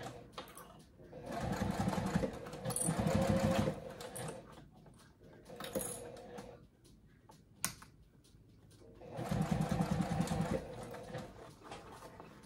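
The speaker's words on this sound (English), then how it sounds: "I'm gonna back stitch." A sewing machine back stitches a woven, fused bag panel, running in three loud bursts of rapid stitching separated by short pauses with small clicks and handling noises.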